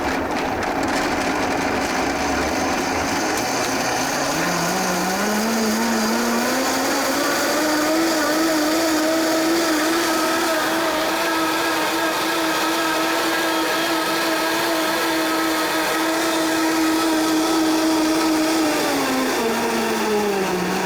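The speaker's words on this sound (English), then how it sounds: "now we're going to blend this for 1 minute" Blender whirring for a long stretch as it purées a creamy cheese sauce with roasted pepper, motor pitch rising as it spins up, holding a steady loud drone, then dropping near the end.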